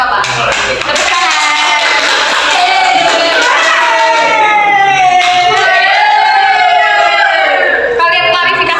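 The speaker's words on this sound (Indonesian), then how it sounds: "Tepuk tangan." A classroom of students claps and cheers together in a loud, sustained burst of applause and whoops, close to the microphone.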